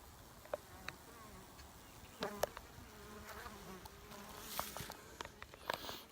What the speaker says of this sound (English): I'm going to bring you around here and let you see my bees